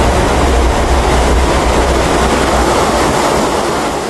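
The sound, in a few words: lahar volcanic mudflow churning downstream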